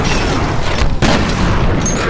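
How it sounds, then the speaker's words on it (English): Shotgun blasts in the first-person shooter FEAR during close-quarters fighting, loud booming reports with dense crashing noise filling the space, a sharp break midway before another blast rolls on. "This shotgun has no range."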